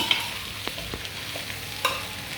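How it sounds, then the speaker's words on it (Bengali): Spices for an olive pickle sauté in a pan with a soft, steady sizzle and a few sharp spoon scrapes and taps, close and without any voices. "এই মশলার সঙ্গে খুব সুন্দরভাবে আস্তে আস্তে করে কষিয়ে নেব, যতক্ষণ না এটা সফট হয়ে আসে"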